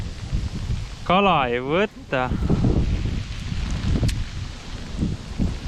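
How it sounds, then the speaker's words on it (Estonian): Harsh, steady wind with hail sweeps over an open-water perch fishing spot, roaring and buffeting throughout while someone talks over it. "rõve tuul ja rahe."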